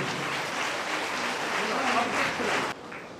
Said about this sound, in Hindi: ये जोरदार ताली अपने लिए बजा लीजिए आप सब।